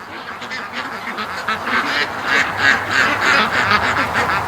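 A flock of ducks quacks repeatedly at close range, the calls overlapping and building in loudness as more of the birds wake up for a snack.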